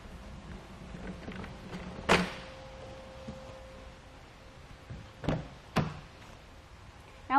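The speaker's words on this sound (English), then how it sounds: "And now we can open up the doors on our vehicle." Car doors on a vehicle fitted with a roof rack open with a few sharp clunks and latch clicks, spaced out over a quiet background with a faint steady hum.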